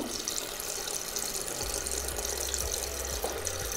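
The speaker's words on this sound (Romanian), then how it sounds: "să mergem în baie, la chiuvetă, să dăm drumul la apă" Bathroom sink tap left running, a steady broadband rush of water with a low hum underneath, continuous and close with no voices.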